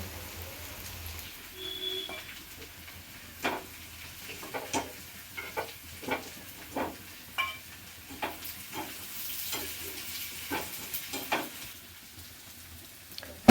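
Chicken frying with masala and onion in a pan gives off a steady close sizzle, broken by a series of sharp scraping stirs at a fairly regular pace, with no talking.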